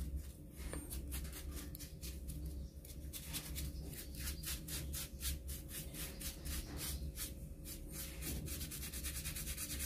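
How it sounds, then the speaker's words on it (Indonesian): A baby monitor lizard's underside is scrubbed in quick, rhythmic rubbing strokes, close and fairly quiet over a steady background hum. "Ini aku gosok bagian bawahnya dulu."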